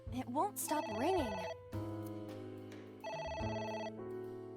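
Telephone ringing in the video game AI: The Somnium Files, a repeated electronic ring tone sounding in bursts with game music pitch sweeps at the start, loud and persistent across the moment.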